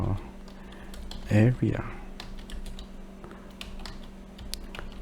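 Typing on a computer keyboard while writing C# code for a triangle calculation app, scattered keystrokes running steadily under brief speech.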